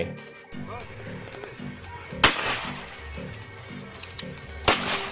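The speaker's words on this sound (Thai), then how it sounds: "ลองมาดูกันว่าผู้เชี่ยวชาญ CQB จะยิงยังไง" Gunshots fired by a CQB expert, two sharp loud cracks a couple of seconds apart heard over ongoing talk and background noise.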